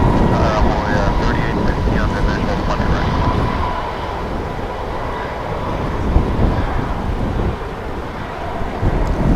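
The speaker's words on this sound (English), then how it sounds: "This American flight 2181, it's an A321." An American Airlines A321 airliner at DFW Airport gives off a broad, steady roar under heavy wind buffeting on the microphone, loud and continuous throughout.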